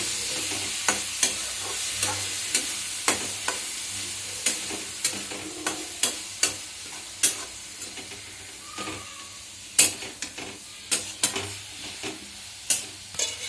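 Tomatoes sizzle steadily in a hot pan for tomato pasta while a utensil scrapes and knocks against it in sharp, regular strokes, close and clear with no talking.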